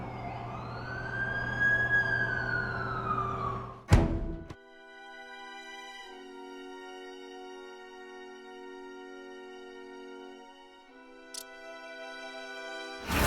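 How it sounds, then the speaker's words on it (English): A video game ambulance siren wails, sweeping up and down loudly for several seconds, then cuts off abruptly, leaving a steady low electronic hum with a couple of sharp clicks. "That's the ambulance I called."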